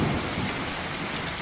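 Heavy rain pours with a dense, steady roar and a deep rumble of thunder underneath, loud and continuous throughout the short stretch.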